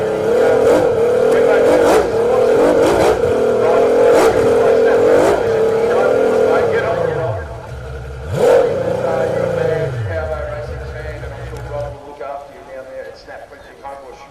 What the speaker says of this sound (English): These hydros, you can hear them wherever, cavitating madly till the boat gets moving forward.